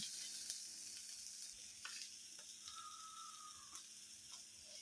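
Leftover chapati pieces with ground pepper are stirred in a pan, producing a soft, steady sizzle with occasional faint scrapes and clicks of the spoon, quiet and close, with no talking.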